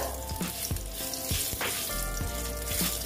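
Whole cumin, garam masala and bay leaf frying in hot oil for a niramish jhinge and moong dal dish, a steady close sizzle with faint crackles and occasional stirring clicks throughout.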